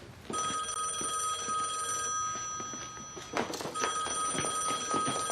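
A telephone rings with a shrill bell-like trill in repeated bursts, fairly loud and close, with a few thumps and rustles mixed in between rings.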